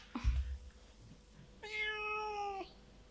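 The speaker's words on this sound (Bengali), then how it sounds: "ওই তো, ওই তো বিড়ালের ডাক।" A single drawn-out cat meow sounds clearly and close by, following a soft low thump and a quiet stretch.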